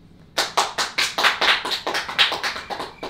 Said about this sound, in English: Probably you guys clap.